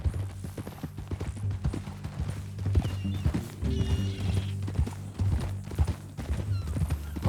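Horse hooves clip-clop in a steady walking rhythm in Red Dead Redemption 2, close and clear, with occasional snorts and a faint whinny amid low background rumble.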